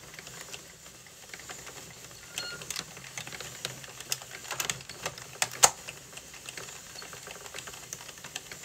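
A circular knitting machine is cranked slowly while knitting a twisted ear warmer, giving a steady run of light, fast mechanical clicks and ticks with a few sharper snaps, close and fairly quiet.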